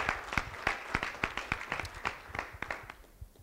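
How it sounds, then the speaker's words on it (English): A meeting audience gives a brief round of applause, with distinct separate claps from a fairly small group that thin out and fade toward the end. "So I think we should have a quick round of applause for all of those people who have made that work."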